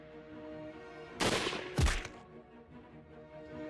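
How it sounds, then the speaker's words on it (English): Gunshot in the video game Hakuouki: Chronicles of Wind and Blossom: two sharp, loud cracks about half a second apart, the second heavier and more booming, over a quiet steady music bed. "I heard another gunshot."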